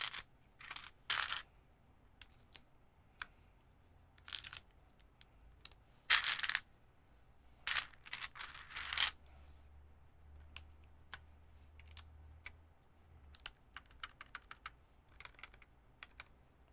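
A rebuilt mechanical keyboard produces sharp, irregular clacks and taps with occasional louder bursts, close and quiet, with a faint low hum underneath and no talking.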